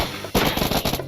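A Vector submachine gun from a Minecraft gun mod fires a short, loud automatic burst of rapid shots after a brief lull, with no talk.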